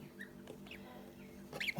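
Newly hatched Kholmogory goslings from an incubator give a few faint, thin peeps, scattered chirps over a low hum in a quiet room.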